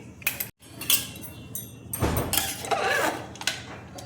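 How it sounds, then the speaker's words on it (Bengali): A metal pressure cooker lid is worked open after cooking dal, giving several sharp metallic clanks and scrapes with a short pause between the clatter. "কুকারের দেখো ঢাকাটা আমি খুলছি"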